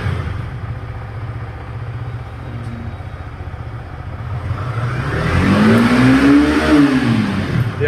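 A Yamaha R15 V4 motorcycle engine idles steadily at low revs, then revs up and back down in a loud, rising and falling sweep close by, with no voices over it.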